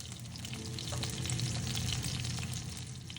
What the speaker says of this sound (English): Frying eggplants does make them soak up a lot of oil.